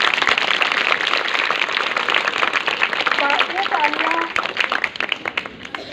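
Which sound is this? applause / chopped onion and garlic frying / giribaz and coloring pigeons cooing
applause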